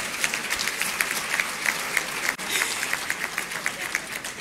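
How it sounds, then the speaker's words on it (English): Steady applause from a large audience at a university graduation congregation, dense and even clapping with rhythmic peaks, fairly close. "Please applaud Mr. Andrews Kwesi Boateng."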